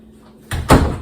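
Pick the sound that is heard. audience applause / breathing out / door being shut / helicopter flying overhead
door being shut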